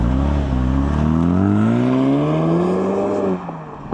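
A Jaguar F-Type P300 four-cylinder engine starts and revs up loud and close, its tone climbing steadily for about three seconds before it drops back abruptly.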